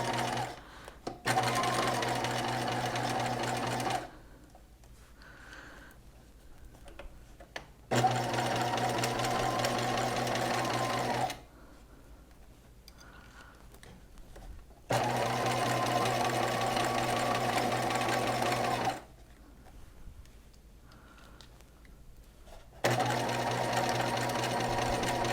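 A sewing machine sews a straight-stitch dart on a gown, running steadily in several long bursts of a few seconds each with short quiet pauses between them.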